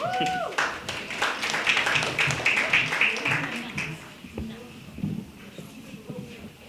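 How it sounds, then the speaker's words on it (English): Brief applause welcoming youth leaders at a community student health survey discussion, a burst of clapping that fades within a few seconds, followed by faint shuffling and room noise. "Give them a round of applause."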